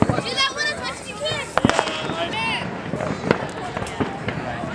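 Fourth of July fireworks pop and crackle at a distance in quick scattered bursts, and voices chatter over them throughout.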